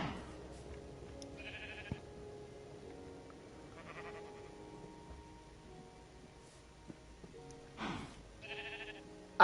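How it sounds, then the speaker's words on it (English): Demon sheep bleat in a video game world, with short harmonic cries coming in separate bursts over a quiet, steady backdrop of humming game tones. "I have a bunch of demon sheep in my world."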